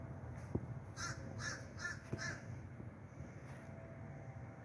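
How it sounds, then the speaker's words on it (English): A bird squawks outdoors in a garden, giving a run of four harsh, crow-like caws in quick succession and then one more, heard at moderate distance over a soft outdoor background. "Bird's a little squawky"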